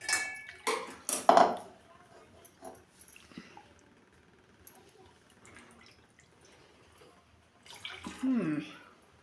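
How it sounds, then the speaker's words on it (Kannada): A mixer jar being rinsed with water in a home kitchen, with sloshing and clattering bursts at the start and a swirling splash near the end, separated by a quiet stretch. "ಮಿಕ್ಸರ್ ಡಬ್ಬಿ ಒಳಗೆ ನೀರು ಹಾಕ್ಕೊಂಡು"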